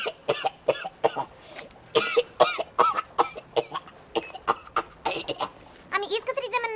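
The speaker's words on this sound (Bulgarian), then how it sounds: "Сега ще му привлеча вниманието с една деликатна кашлица." A woman gives a series of deliberate, delicate little coughs and throat clears to attract a man's attention, short dry bursts repeated close to the mic.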